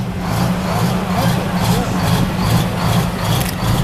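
An old Mack C-cab rescue fire truck, originally built with a Mack gas engine and repowered with a Detroit diesel, runs loud and close during a firemen's convention parade, a steady deep rumble with a slight rhythmic pulse.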